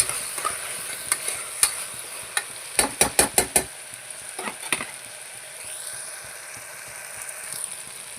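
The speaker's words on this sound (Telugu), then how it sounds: "ఒకసారి ఇలా కలుపుకోవాలి పసుపు వాసన వెళ్ళేదాకా ఫ్రై చేసుకోవాలి" Turmeric being stir-fried in a pan, with a steady sizzle and a run of sharp rhythmic clicks as a spatula scrapes and stirs against the metal, loudest in a quick burst midway, with no talking.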